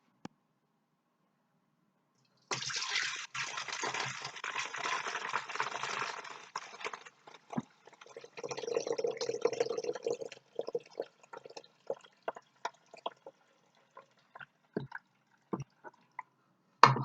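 Apple juice pours steadily into a pot for several seconds, a broad splashing rush that shifts to a lower, fuller gurgle, followed by scattered drips and small knocks.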